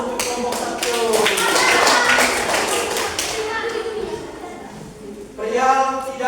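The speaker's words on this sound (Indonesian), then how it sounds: "beri aplaus untuk kelompok 1" Classroom of students clapping for a group after a presentation in an Indonesian lesson, a dense burst of applause that fades then picks up again briefly, with children's voices mixed in.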